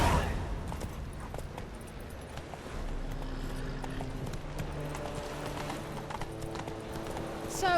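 Galloping horse hooves in The Witcher 3 video game keep up a continuous clip-clop rhythm, with game music and ambient effects layered beneath.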